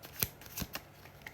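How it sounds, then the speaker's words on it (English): Tarot cards being shuffled by hand: a few quick, soft riffling bursts spaced across a short, quiet moment, close and isolated with no talking. "as I'm shuffling"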